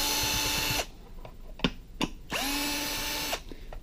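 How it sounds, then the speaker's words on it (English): A handheld screw gun whines in two sustained bursts, backing screws out of the arm casing of a SimMan 3G patient simulator, with short clicks and handling knocks in the pause between them, recorded up close. "But we use a screw gun here to remove them."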